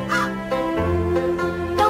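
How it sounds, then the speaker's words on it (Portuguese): Crows in the animated series Mr. Pickles give a run of about four harsh, honking caws that sound loud and close, with no talk over them. "Corvos!"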